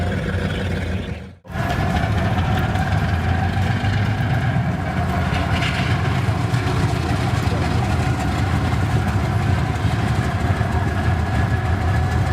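A Soviet TE-10 diesel locomotive's 10-cylinder, 3,000-horsepower engine drones at a steady idle, a loud continuous low rumble broken only by a momentary dropout near the start.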